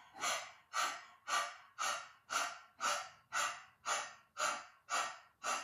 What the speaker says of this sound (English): begin powerful panting